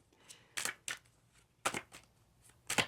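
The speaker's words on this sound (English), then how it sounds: "So I'm going to just put this back in the deck and keep shuffling." A deck of oracle cards is shuffled on a floor indoors, giving a few soft, quick riffling bursts spaced irregularly apart, quiet and close, with no talking.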